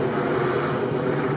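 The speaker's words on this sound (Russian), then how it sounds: "Вертолет." A helicopter passes overhead above an off-road route, a continuous droning rotor and engine hum with a steady low tone, fairly loud and unbroken, with no voices heard.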